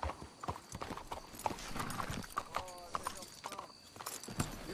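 Horses' hooves clip-clopping in the video game Red Dead Redemption 2, a steady close series of hoofbeats on the ground with snorts mixed in, continuing throughout beneath character dialogue.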